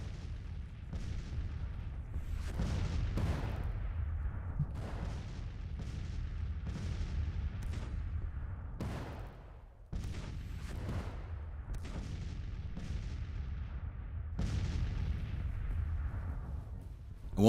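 Artillery bombardment in the Civil War strategy game Grand Tactician, a steady barrage of deep cannon booms and rolling blasts, repeated every second or two over a continuous low rumble, loud and unbroken apart from a short dip midway.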